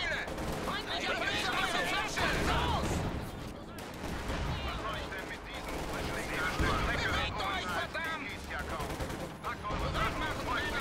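Dense machine-gun bursts and battle explosions rumble through a Company of Heroes 2 match, loud and continuous, with someone talking over the gunfire.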